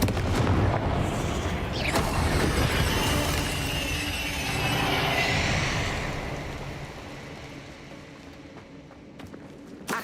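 In Hogwarts Legacy, a Confringo fire spell bursts with a loud booming blast whose rumble swells again, then slowly fades into a quieter tail with a few faint crackles.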